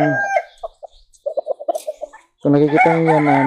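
A broodcock rooster on a farm gives a few short clucks, then a loud, close, full crow that fills the last second of the clip.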